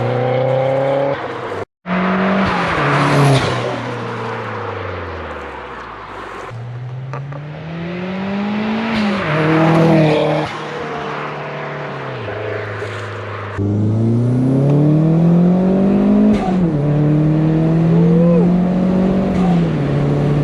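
Turbocharged Toyota MR2 engine heard from inside while driving, revving smoothly up and down through several gear pulls with rising and falling engine tone, loud and continuous, with a brief dropout early on.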